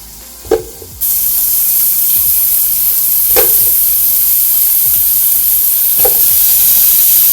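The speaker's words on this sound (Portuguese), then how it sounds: "Para começar a selar, eu vou começar a usar aqui esse bacon que está lindo." Large pieces of bacon sear in a pot for a Bahian feijoada, starting with a few clunks and then a sudden loud, steady sizzle that keeps going, with occasional stirring scrapes.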